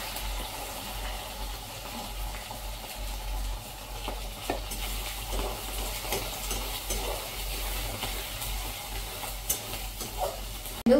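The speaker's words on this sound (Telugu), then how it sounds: "ఉల్లిపాయలు వేసి బాగా వేగనివ్వాలి." Onions, green chillies and curry leaves fry in hot oil, giving a low, continuous sizzle with occasional scraping stirs, close and alone without any talking.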